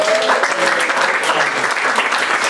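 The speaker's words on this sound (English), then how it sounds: "Give him a round of applause." Audience applause for a jazz pianist at an evening concert of jazz and opera at Convivio Center, steady dense clapping filling the room throughout, fairly loud with faint voices mixed in.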